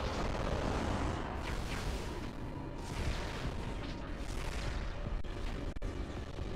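Missiles launching and blasting in Metroid Prime 3 form a dense, loud, continuous roar of booms and bursts with no let-up, alone with no talk.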